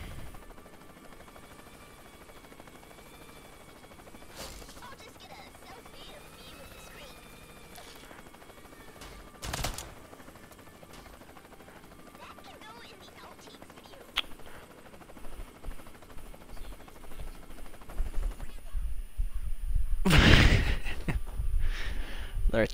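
Helicopters and gunfire in the Worms artillery video game, a droning rotor-like rumble with scattered sharp shots that grows busier and louder toward the end, peaking in a heavy burst near the final seconds.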